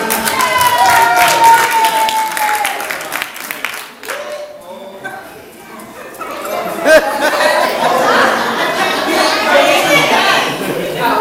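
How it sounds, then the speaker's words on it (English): Audience applause at a 60th birthday party for Carolyn, a crowd clapping steadily over lively chatter and children's voices, dipping briefly midway before swelling again. "Give him a round of applause, please"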